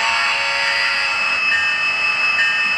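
Horn from an HO-scale Athearn Genesis Conrail SD60I model locomotive sound decoder, a steady, bright, sustained electronic tone held for about three seconds without a break, loud and alone.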